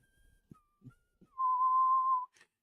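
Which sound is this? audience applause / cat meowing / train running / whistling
whistling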